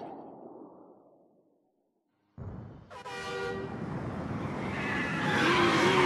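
Bowser's flashy car in Super Mario 3D World: after a brief silence a sudden engine roar starts with a short horn-like toot, then a loud revving drive with tire squeal that grows steadily.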